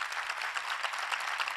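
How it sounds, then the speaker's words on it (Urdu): Applause from a church congregation during a sermon, steady dense clapping heard fairly faintly and at a distance throughout, with no voices over it. "زوردار تالیاں."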